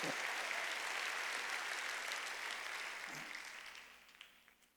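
A congregation claps together during a Sunday church service, a dense wash of applause that holds steady and then tapers off toward the end.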